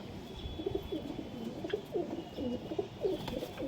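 A desi high-flyer pigeon at a Nabadwip sale coos in a steady, repeating rhythm, a string of soft, close, throaty phrases running through the whole stretch over light background noise.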